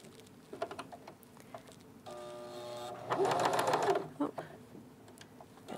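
A sewing machine stitches a zipper onto a lined pouch in a fast mechanical rattle for a couple of seconds, close by, amid quieter handling sounds and a brief whirring hum.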